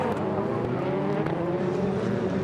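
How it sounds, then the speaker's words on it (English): Rallycross cars at the FIA World Rallycross of Catalunya head down to the pre-grid, a distant continuous engine rumble and buzz sitting steadily in the background with no voices. "You might be able to hear in the background the cars heading down to the pre-grid."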